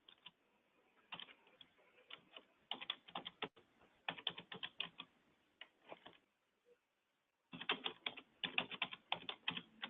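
Quiet bursts of typing on a computer keyboard, with rapid clusters of close key clicks separated by short pauses and one near-silent gap.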